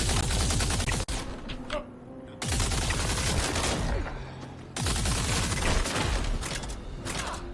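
Rapid automatic gunfire in the space shooter game Star Citizen, dense sustained bursts broken by short pauses, loud and close, with a voice talking faintly underneath.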